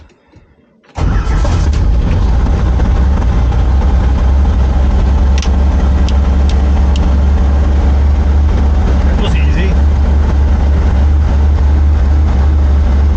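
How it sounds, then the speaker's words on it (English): A carbureted car engine starts after a second of quiet and settles into a steady, loud, rumbling run, with a brief spoken remark partway through. "it's the carbureted engine"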